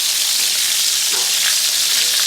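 Oxtails browning in a hot frying pan give a steady, loud sizzle that fills the whole stretch without a break, with one faint scrape partway through and no voices.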